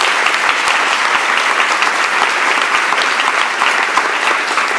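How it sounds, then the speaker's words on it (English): A hall crowd gives a retiring teacher a dense, sustained round of clapping at a district retirement ceremony, loud and even throughout with no voices on top. "Let's give her a big round of applause."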